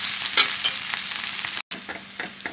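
Mutton and brinjal curry frying in a pan, a loud, dense, steady sizzle close up, with a brief cut near the middle and soft stirring scrapes.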